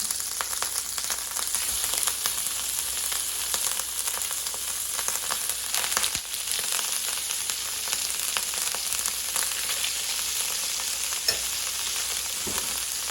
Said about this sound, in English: we're going to put the pork chops in face down and get them cooking